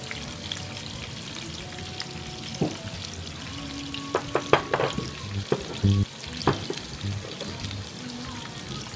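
Prawns and onion stir-fried in a pan for Thai cashew shrimp, with a soft steady sizzle broken by scraping and clanking spatula strokes and a few pours of seasoning sauces, close and intermittent.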